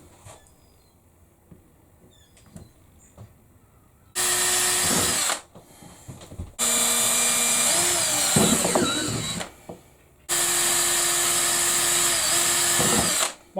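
A power drill bores pilot holes in an electric brewing HERMS temperature control panel, giving three loud, sustained whirring bursts with quiet gaps and small handling noises between them.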